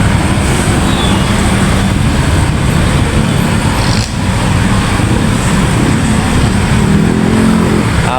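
Steady roar of road traffic on Amang Rodriguez in Manggahan, Pasig, with engines and tyres blending into a continuous loud wash, heard from close beside the road.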